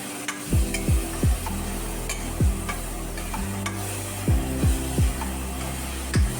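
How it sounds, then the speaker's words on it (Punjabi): Tempering spices crackle and sizzle softly in hot oil for a pointed gourd (parmal) dish while a utensil scrapes the pan in repeated short strokes, a steady frying hiss underneath. "ਤੜਕਾ ਆਪਣਾ ਹੁਣ ਭੁੱਜਣ ਲੱਗ ਗਿਆ ਜੀ ਵਧੀਆ"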